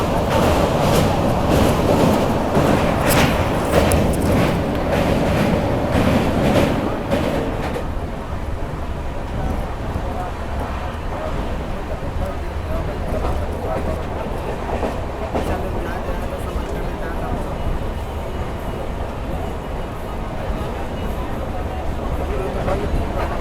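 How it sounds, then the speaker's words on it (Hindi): The Gorakhdham Express (12556) crosses the Rapti river in a loud, steady roar of rolling wheels and rattling carriages, heard from on board, dense and continuous with a harsher clatter early on before settling into a sustained rumble. "भाई हमारी ट्रेन यहाँ क्रॉस कर रही है राप्ती रिवर को।"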